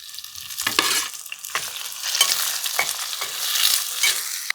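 Onions and tomatoes fry in a pan for a village-style fish curry, with a soft sizzle and repeated scraping stirs every second or so, close and moderately quiet, with no talk.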